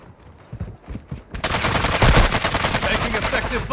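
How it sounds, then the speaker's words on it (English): Gunfire crackles in a video game firefight, a few scattered shots and then sustained dense automatic bursts, loud and close, with no talk over it. "Taking effective fire!"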